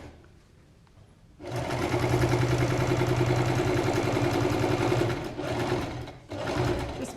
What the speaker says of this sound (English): stitch all the way around the curve